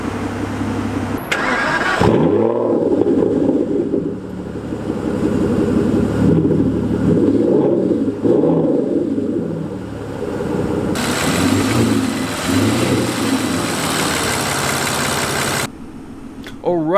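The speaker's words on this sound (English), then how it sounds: "that was the sound of a naturally aspirated 6-liter V12 engine" Aston Martin Vanquish Volante with a naturally aspirated 6-liter V12, 568 horsepower, starts up with a sharp crank and bark, then idles and revs in loud, close swells, rising again to a strong rev near the end.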